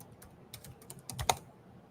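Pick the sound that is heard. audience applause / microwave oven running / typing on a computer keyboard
typing on a computer keyboard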